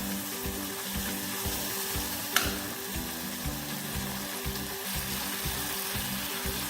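Capsicum curry with gram flour and a little water sizzles in a pan over a medium flame, a steady frying crackle with rhythmic stirring scrapes and one brief sharp clink.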